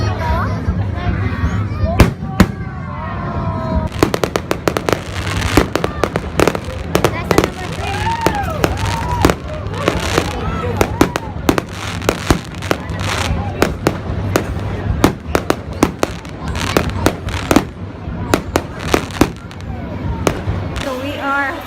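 Fireworks burst again and again at the Sinulog festival in Cebu, a dense run of sharp cracks and booms over a crowd's murmur as rain sets in.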